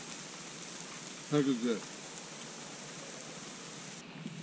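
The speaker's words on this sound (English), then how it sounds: "It's raining." Steady rain falls on a Big Sur campsite, a constant hiss of drops under a brief spoken voice midway.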